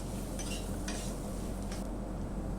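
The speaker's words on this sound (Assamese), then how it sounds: "এইখিনি দি লাৰি ভাল কৰি ভাজি ল'ম" A spoon scrapes and stirs in a pan as cumin powder, coriander powder and chicken masala fry with a soft, steady sizzle, close by with no talking.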